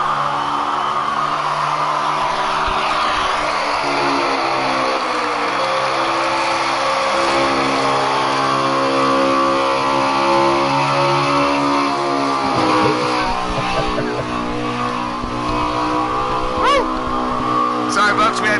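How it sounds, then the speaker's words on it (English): A race car engine in a racing video game at Dover hums and revs steadily at high pitch, with shifting tone as it climbs, continuous and loud throughout under occasional talk. "Hear that motor sing for a second."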